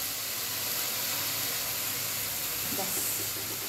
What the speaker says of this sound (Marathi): असं पाणी घालून घ्यायचं याच्यात